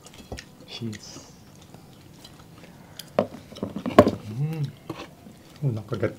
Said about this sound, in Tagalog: Nakagat tayo sa malutong.